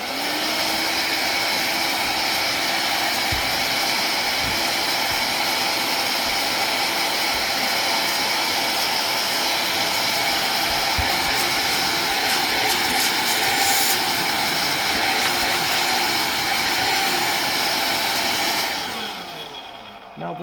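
Hoover Air cordless vacuum cleaner running with a loud steady high motor whoosh and suction roar for nearly twenty seconds, then cutting off near the end.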